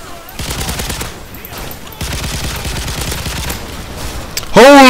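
Rapid, sustained automatic fire from a sentry gun in Call of Duty Modern Warfare 3 survival mode, loud crackling bursts with a short break midway and a rising electronic tone at the end.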